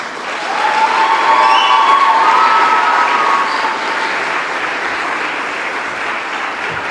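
Standing audience at a graduation ceremony applauding teachers and parents, a loud, dense, sustained clapping that swells early and then eases to a softer, steady level.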